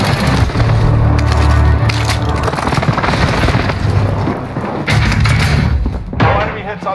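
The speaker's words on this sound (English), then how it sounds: "Enemy precision airstrike." Enemy precision airstrike in the Warzone battle royale video game: heavy booming explosions with crackling gunfire-like bursts, loud and sustained across the clip, with game voice callouts over them.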